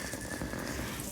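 Steady rain falls on a mountain hut on a summer pasture in the Ariège on a cool October day, a soft continuous hiss of drops close by with no voices.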